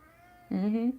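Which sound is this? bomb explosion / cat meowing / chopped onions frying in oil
cat meowing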